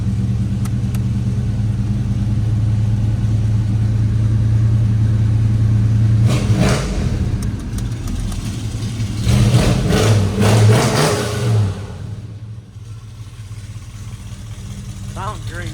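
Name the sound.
1980 Chevrolet El Camino crate 350 engine running, dual exhaust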